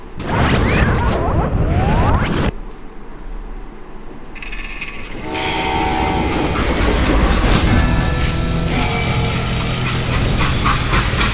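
A freight train in the video game Call of Juarez: Gunslinger rumbles along the tracks with rhythmic clattering, a loud steady roar that shifts partway through, with no voices.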